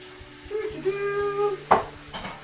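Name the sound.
washing dishes in a kitchen sink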